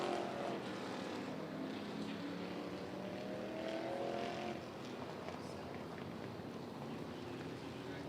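Vintage race cars idle and creep around a dirt track as they line up for a restart, a low distant engine drone under a commentator's voice.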